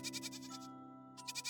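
A cartoon goat gives a single wavering, nasal bleat, fairly close and clear, which breaks off briefly in the middle and then resumes.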